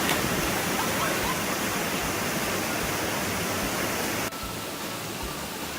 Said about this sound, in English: This was a cool water chute with a lot of water rushing down through it.